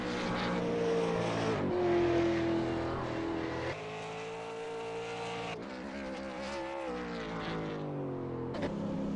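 A V8 Supercar in a racing sim at Phillip Island, engine revving hard through the gears with rising pitch, sharp shifts and steady roaring acceleration, close and loud throughout.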